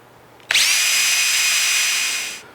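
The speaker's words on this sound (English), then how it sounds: "I'm just going to drill and countersink a couple of holes in here" A power drill bores and countersinks a hole in wood for a miter sled, one loud, steady whine that starts abruptly, holds for about two seconds and winds down.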